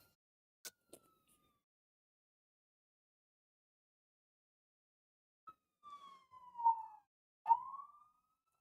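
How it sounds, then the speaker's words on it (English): Faint ambulance siren outside sounds in short, scattered wails: a couple of quick blips early on, then after a long quiet gap a few louder falling tones near the end, heard from a distance. "There's an ambulance outside."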